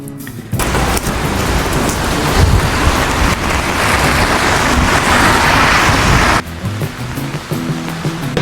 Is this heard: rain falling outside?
yes